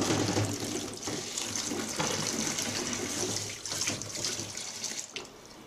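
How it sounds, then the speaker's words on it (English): Fruit rinsed under a running kitchen tap, with a steady broadband rush of water into the sink and small splashing shifts as the fruit is handled, fairly close and without talk. "Now, wash the fruits."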